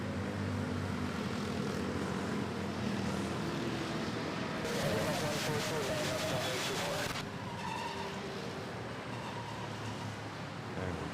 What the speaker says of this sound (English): now we have this A320 from Katiklan about to touch down.